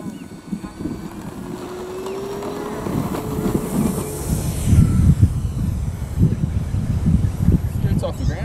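FMS B-25 1400mm radio-controlled twin-engine model bomber taking off on its maiden flight, a rising whining engine drone that swells as it leaves the ground, with wind buffeting and people talking over it.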